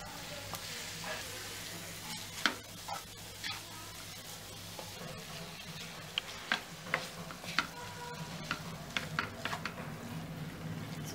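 Minced meat kheema for samosa filling frying in a pan, a steady low sizzle with scattered clicks and scrapes of stirring spread through, moderately quiet and with no voices.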